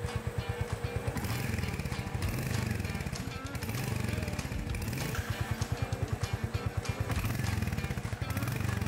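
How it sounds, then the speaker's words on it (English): Royal Enfield Hunter 350 single-cylinder engine held at raised revs during an oil level check, a loud, steady, rapid thumping throb close by that rises and eases slightly in a few swells. "Switch on the engine and gently raise the RPM for 10 seconds."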